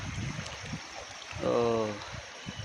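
Stream water trickling and gurgling in a village stream during a crab-catching outing, a steady soft flow under a voice talking throughout.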